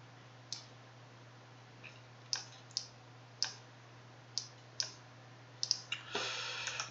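A computer mouse clicks close by in a small workspace, with about a dozen crisp clicks spaced irregularly. A few come in quick pairs and end with a brief shuffle, all over a faint steady hum.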